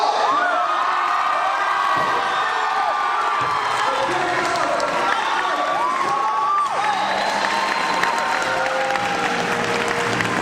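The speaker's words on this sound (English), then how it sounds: "Huge round of applause and congratulations to the Arrows from Portugal!" Loud audience applause and cheering at a cosplay contest, dense clapping mixed with whoops and high excited shouts filling the room continuously, with an announcer's amplified voice threading through.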